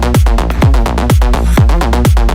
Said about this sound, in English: And then there's like a higher one that comes in that sounds like this.